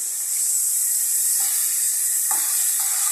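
Jackfruit pieces rubbed with salt and turmeric sautéed in a pan for pickle give a steady bright sizzle, with a few soft stirring scrapes breaking through near the end, close and with no talking.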